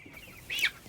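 A single short cluck from a young meat chicken, close and clear over quiet farm background, as a flock of 200 birds is moved from brooders into a chicken tractor on pasture.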